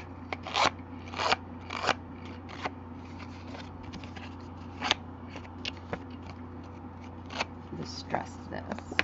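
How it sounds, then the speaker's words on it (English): A metal distressing tool scrapes along the edges of paper cardstock in short, irregular rasping strokes, quiet and close with gaps between passes, over a steady low hum. "It's a distressing tool and it's also retired. So I'm going to just distress."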